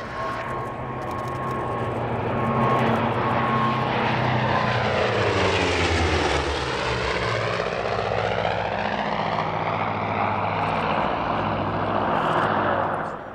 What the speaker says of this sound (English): As well as flypasts by a pair of Corsairs